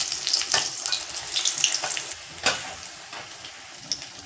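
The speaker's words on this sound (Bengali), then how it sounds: "একদিকে হয়ে গেছে ভাজা" Capsicum chilli pakora coated in gram-flour batter crackles as it fries in hot oil, a steady bright sizzle broken by a few louder pops and spatters, with no one talking.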